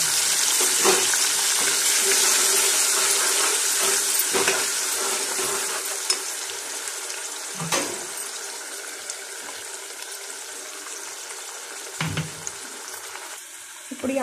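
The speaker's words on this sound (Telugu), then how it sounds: "ఇప్పుడు ఈ ఆనియన్ పేస్ట్ బాగా ఫ్రై అవ్వాలి." Onion paste frying in a pan for a cluster bean onion masala fry, a steady close sizzle that slowly softens, broken by occasional stirring scrapes and clinks.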